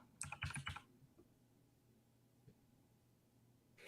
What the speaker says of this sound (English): if I type Atlantis unlock